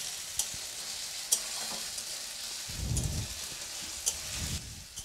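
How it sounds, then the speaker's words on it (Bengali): Ginger, garlic, onion and tomato frying for baingan bharta, a steady close sizzle with a few sharp stirring clicks and two low scraping bursts of the spatula in the pan; no talking. "যতক্ষণ ব্রাউন পুরোপুরি না হয়ে যায় ততক্ষণ এটা ভাজতে হবে।"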